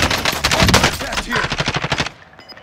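Rapid automatic gunfire in the video game Call of Duty: Modern Warfare, loud and close, bursts rattling continuously for about two seconds with a faint voice underneath before cutting off to quiet.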